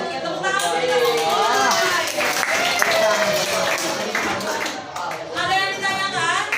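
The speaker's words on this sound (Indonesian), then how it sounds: "Ya, tepuk tangan dulu" A class claps for a student during a maths lesson, scattered, modest clapping mixed with lively children's chatter and an adult voice speaking over it.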